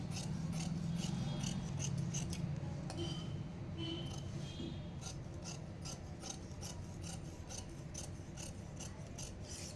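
Scissors cutting fabric for a boat neck blouse, a steady close rasping snip and slide with regular crisp clicks of the blades, continuous and alone.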